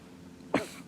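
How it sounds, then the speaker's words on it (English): A single cough muffled by crouching low to the ground, bursting out after a half-second of quiet, followed by a softer second cough at the end. "get down here lower to the ground and cough and muffle it."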